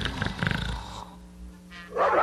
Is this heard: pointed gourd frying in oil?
no